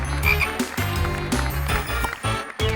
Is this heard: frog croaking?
yes